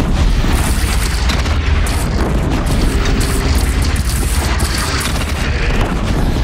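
Cannon fire on a rolling gun platform in the video game Horizon Zero Dawn, a loud, continuous booming roar filling the whole stretch with dense rumbling blasts and no voices.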